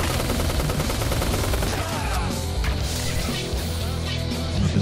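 Enemy gunfire in the shooter game Jydge: a dense, continuous barrage of rapid shots under a steady game soundtrack, with a voice briefly reacting.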